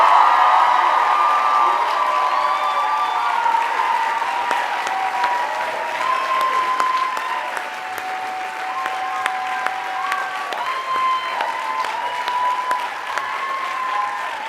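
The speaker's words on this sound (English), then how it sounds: "I invite you to offer a second round of applause" Sustained applause from a large crowd at a college commencement ceremony, loud and steady throughout, with a few faint whoops rising above the clapping.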